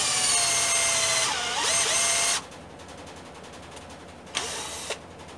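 A Mondial impact drill-driver runs at speed setting 1, a loud, steady high whine for about two seconds with a slight pitch dip, then it stops, leaving quieter handling noise and a brief second burst.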